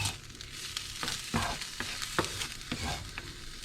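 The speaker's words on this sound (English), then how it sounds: "You can see it sizzling now, so I'm going to start to stir it" Bacon sizzles in a pan for a Lithuanian potato cake, a continuous crackling fry broken by several distinct scraping strokes of a stirring utensil, close and fairly quiet with no talk.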